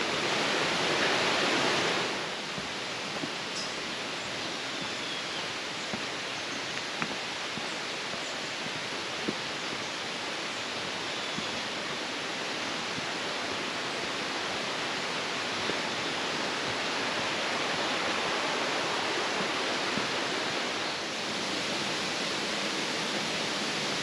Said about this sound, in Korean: 그 사이를 하얗게 물보라를 일으키면서 내려가는 계곡물 소리가 더할 나위 없이 좋습니다